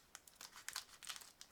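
Plastic bag holding a 1/35 Meng Leopard A3/A4 tank model kit part is handled close by, giving a quiet run of crisp crinkles and rustles in irregular bursts with no talk.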